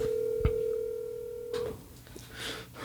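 A telephone sounds a steady tone, then a few short dialing beeps, heard faintly in a room amid low background noise.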